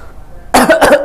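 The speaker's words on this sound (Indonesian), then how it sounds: "Ini cepet-cepet jadi saya batuk" Two sharp, loud coughs in quick succession from a nearby person, following a short stretch of quiet room tone.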